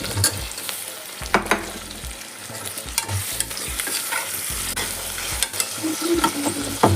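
Chopped tomatoes, onions and curry leaves sauté in hot oil for a mutton salna, with a spatula scraping and clacking against the pan in irregular strokes over a constant close sizzle. No one speaks.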